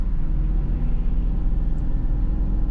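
A BMW X5 engine pulling along under gentle throttle, giving a steady low rumble from inside the cabin with no change in pitch throughout.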